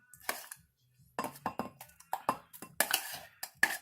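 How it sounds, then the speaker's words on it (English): Homemade applesauce scooped into a bowl, a run of sharp utensil clinks and scrapes against dishes, irregular and close, separated by short quiet gaps. "Homemade applesauce. I'm going to scoop into a bowl."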